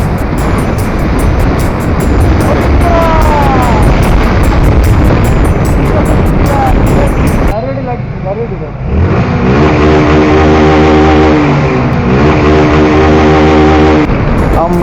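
Fast traffic rushes along a highway with a steady loud roar from vehicles passing close by, then engine drones with shifting pitch. Wind noise rises and falls, and a voice talks over it.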